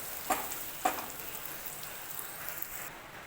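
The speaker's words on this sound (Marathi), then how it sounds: "कमी गॅसवर मस्तपैकी आता तेल सुटेपर्यंत चांगले वाटण आता मी भाजून घेतलेलं आहे" A coconut and sesame masala paste for chicken curry fries in oil over low heat, giving a faint, soft sizzle with two brief scraping taps of stirring near the start.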